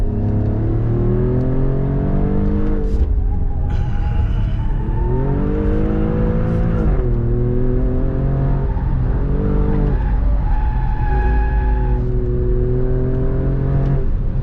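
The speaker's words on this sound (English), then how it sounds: "I'm lighting up a tire, which is interesting." A 2024 Alfa Romeo Stelvio Quadrifoglio SUV revs hard while spinning a tire through corners, the engine rising and falling in repeated loud surges with tire squeal and skidding underneath, close and continuous.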